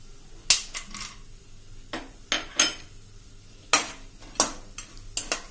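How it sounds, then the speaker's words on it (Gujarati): Peanuts with a few cashew pieces roasting in a pan, a utensil scraping and knocking against the metal in irregular sharp clicks and clatters, close and fairly quiet, with no talking. "આ દાણા આપણા મગફળીના સહેજ અડધી મિનિટ જેવા રોસ્ટ થયા છે ત્યાં આપણે 4-5 કાજુના પીસ લીધા છે એ નાખી દેશું"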